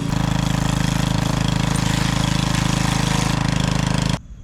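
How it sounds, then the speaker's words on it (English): A power washer runs steadily and loud on its motor while cleaning muck off a first-generation Toyota pickup, a droning pulsing hum that cuts off abruptly near the end. "you can probably hear it, the power washer's going"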